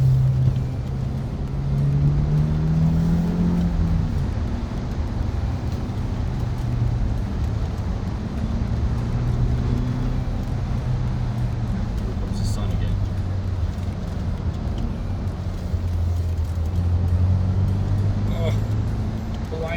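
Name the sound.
car driving on mountain highway, shifting gears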